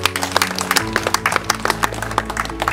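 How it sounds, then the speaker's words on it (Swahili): Parents at a school meeting in Yombo Vituka ward applaud themselves in a short, lively round of clapping, with music playing underneath. "Hebu tujipigie makofi sisi wazazi"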